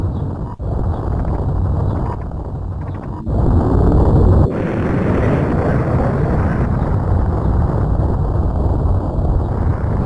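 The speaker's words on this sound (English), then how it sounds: "Now we see this scene where we see planet Zebes explode." Planet Zebes blowing up in Super Metroid, a loud, roaring explosion rumble like a sustained rushing blast, broken by brief cut-outs early on and then swelling into a continuous heavy roar.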